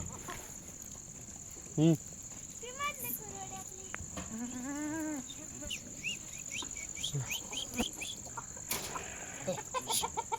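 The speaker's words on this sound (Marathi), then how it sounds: "कोंबडेवाले तिकडे आवाज येत आहे" Chickens cluck and cackle at a moderate distance over a steady insect drone, with scattered calls and some faint voices in the background.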